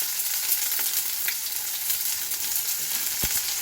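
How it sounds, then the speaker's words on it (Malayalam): Mustard seeds and fennel seeds fry in hot oil with a steady, close sizzle throughout, dotted with faint pops and crackles and one sharp low knock near the end. "ഓയിൽ ചൂടായി വന്ന് കടുക് ഇട്ടിട്ടുണ്ട്. കുറച്ച് പെരുംജീരകം ഒരു മുന്നിലിട്ടിട്ടാൽ"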